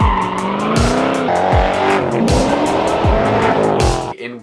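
A white 2005 Ford GT sports car driving hard with tires squealing repeatedly, loud and close, its engine note rising and falling in quick bursts through several skids before cutting off at the end.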